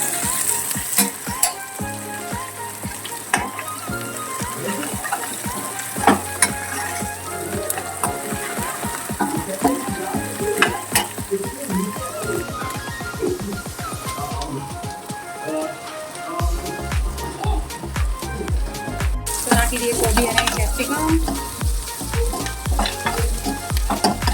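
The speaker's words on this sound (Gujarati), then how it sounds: "હવે નાખી દઈએ ડુંગળી અને ગાજર" Onion and carrot fry with cumin, whole spices and ginger-garlic-chili paste for masala pulao, a loud busy sizzle with stirring clatter and scraping throughout, with music playing alongside.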